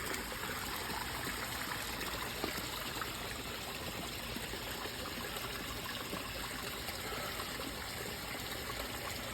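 Water siphons out of a koi pond through a hose, a steady, continuous rushing trickle that holds at an even level throughout without pause or talk.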